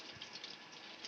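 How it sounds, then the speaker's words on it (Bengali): Water splashes steadily over an animal being bathed at home, a continuous close gush like a running tap poured onto its body. "জল পড়ছে গায়ে।"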